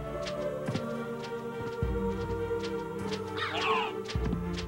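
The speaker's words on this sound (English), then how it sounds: "Being attacked by a stupid crow." Crow enemy from the video game Castlevania: Symphony of the Night cawing repeatedly in short harsh bursts over steady game music and effects, no talking.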